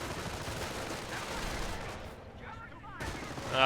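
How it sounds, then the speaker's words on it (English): Strafing run in the video game Company of Heroes, a burst of rapid distant gunfire and rumbling explosions that fades briefly before a louder impact at the end. "Oh, there comes oh, there's a strafe. That was a huge strafe."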